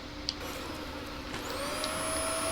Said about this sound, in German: Staubsauger. Neue Ausrüstung.